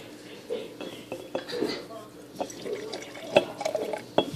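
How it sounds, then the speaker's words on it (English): Boiled red cabbage water is poured into a clear jar, giving soft liquid splashes and drips close by, with a person talking over the pour. "So I'm going to go ahead and add it into this jar."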